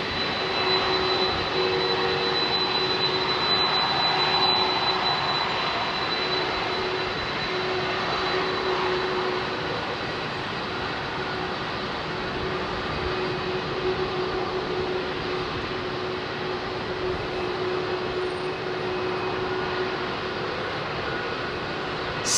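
Jet airliner rolling down the runway for takeoff at Heathrow on a smoky day, a steady, moderately loud engine roar that holds throughout, slightly stronger early on, alone with no talk.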